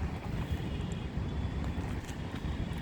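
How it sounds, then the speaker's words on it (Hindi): Strong wind blowing outdoors, buffeting the microphone as a steady broadband roar that stays loud and continuous throughout, with no talk. "और जो हवा चल रही थी यार."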